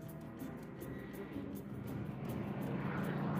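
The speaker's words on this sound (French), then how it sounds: "L'aviation allemande vient à la rescousse." German military aircraft flying overhead during a wartime battle on the Eastern Front, a steady broad engine drone that swells gradually louder as it approaches, continuous with no breaks.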